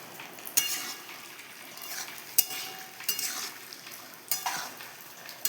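Homemade spice paste for a vegetarian papaya and potato curry being stirred and mixed in a pan, with a steady scraping, sizzling texture and occasional sharp clinks of a utensil against the vessel, close and moderately loud.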